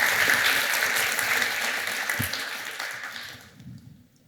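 Audience applause at a Ruby programming tech talk, a dense wash of clapping from a mid-sized crowd that holds steady and then fades away near the end.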